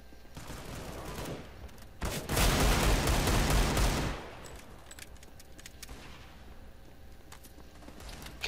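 A loud burst of rapid gunfire lasting about two seconds in Counter-Strike: Global Offensive, surrounded by quieter game ambience.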